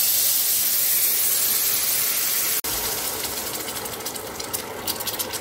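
Water poured into bulgur roasting in hot oil sets off a loud, steady hiss and steam for several seconds, broken by a short cut, then a bubbling sizzle that gradually settles.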